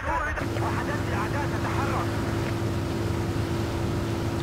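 A Black Hawk helicopter in Battlefield 2, with a steady droning rotor and engine hum holding a constant pitch throughout, while a voice speaks briefly over it near the start.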